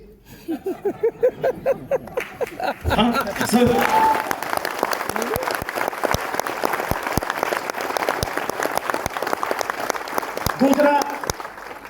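Participants at a leadership development program in Delhi start clapping, a few rhythmic claps at first, then a sustained round of applause from the group, with voices speaking and calling out over it throughout.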